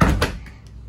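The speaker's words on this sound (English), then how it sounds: "go shut this door" A door inside a 2017 Allegro 34PA RV swings shut with a single solid thunk, followed by a lighter rattle and small knocks as it settles, close by.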